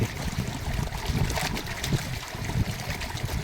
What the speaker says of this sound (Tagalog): Oras na para alisin ang tarol sa gate at papasukin ang tubig.